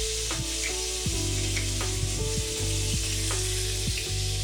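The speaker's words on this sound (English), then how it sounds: "Listen to that sizzle." Tomato sauce sizzles and fries loudly in a pan for chicken tikka masala, a constant crackling hiss broken by repeated stirring knocks of a utensil against the pan.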